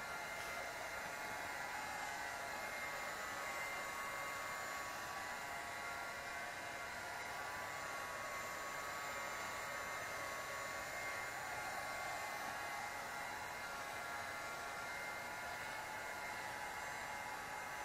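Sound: heat gun warming a tire

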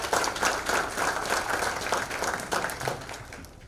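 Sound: audience applause for committee members

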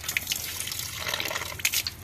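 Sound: petrol-like liquid running from a water tap

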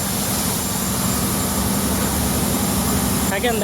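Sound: ferry engine room engine running

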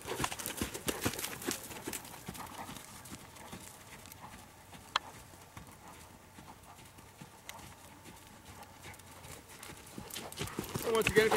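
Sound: horse cantering on the lunge

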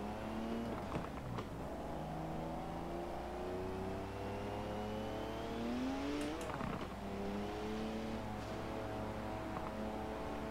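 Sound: car engine roar in the video game Forza Horizon 4

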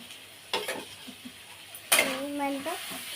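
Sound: stirring shrimp in a frying pan

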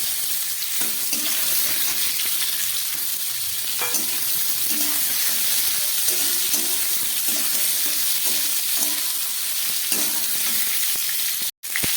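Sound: amla (Indian gooseberry) frying in spiced oil

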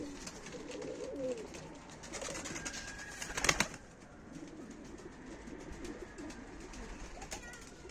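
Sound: pigeons cooing, Mardin birds

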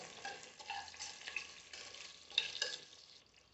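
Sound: coriander and cumin seeds frying in a pan

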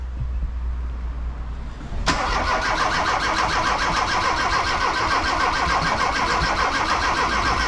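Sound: car engine cranking and trying to start

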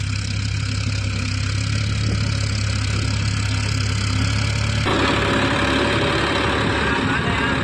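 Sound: tractor engine approaching

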